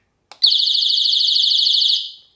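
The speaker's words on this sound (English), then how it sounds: "let me show you how loud this thing can be when the alarm is put on high" A Mosaic MH306V alarm siren set to high volume gives a piercing, pulsing electronic screech that lasts about a second and a half, after a couple of quick keypad clicks.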